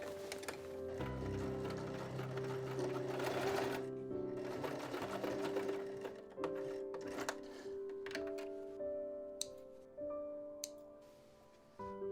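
A sewing machine stitches with a steady mechanical whir, then slows into separate chunky stitches with small clicks and pauses near the end.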